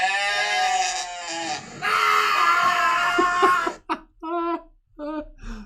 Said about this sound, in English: I love screaming goats, man.